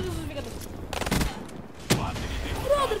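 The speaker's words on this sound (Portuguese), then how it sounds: "a arma dela é de rajada, velho" Short bursts of gunfire from a burst-fire weapon in Call of Duty, two brief volleys about a second apart, close and fairly loud, with a voice talking faintly in the background.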